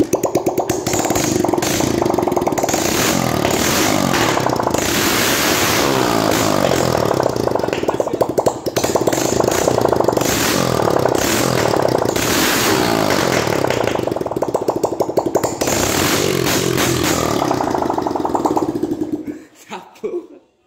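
A Honda Fan motorcycle engine runs with its exhaust removed, a loud, raw, rattling idle that holds steady and close for most of the clip before cutting off abruptly near the end.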